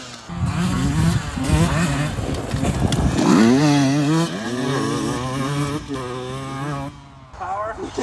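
Two small-bore two-stroke dirt bikes, a Husqvarna TE150i and a Beta 125 RR, rev with a rising, buzzing, raspy whine that climbs and falls, loud and close, while people talk over the engines.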